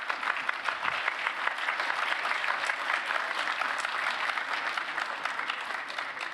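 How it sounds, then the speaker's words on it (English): Steady, dense applause from a large audience at a hackathon closing ceremony, continuous and even throughout with no voices standing out. "Round of applause."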